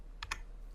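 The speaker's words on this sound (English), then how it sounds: "Now I'm clicking N on the keyboard." Two quick clicks of the N key on a computer keyboard, crisp and close, sounding alone in a quiet room.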